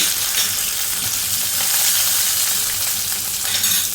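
Chopped garlic and curry leaves sizzle loudly in hot oil in a pan, a steady close hiss that runs the whole time with no talking.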